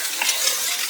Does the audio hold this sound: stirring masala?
yes